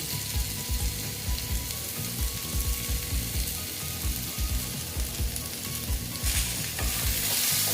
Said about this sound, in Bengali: এটা একটু কমিয়ে দিলাম নিয়ে ভালো মতন একটু এটাকে ভেজে নিচ্ছি